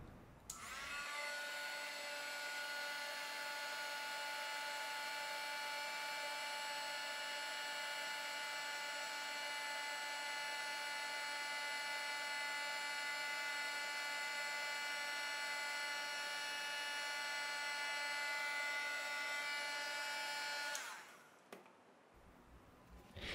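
A heat gun blows steadily on an epoxy-coated tumbler, a loud, even whining hum with a tonal whine that runs for about twenty seconds before cutting off abruptly.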